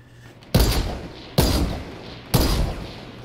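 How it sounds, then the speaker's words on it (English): Gunfire in a multiplayer video game, three loud sharp shots spaced roughly a second apart, each leaving a short echoing tail, with no talk over them. "You got another one shooting at you"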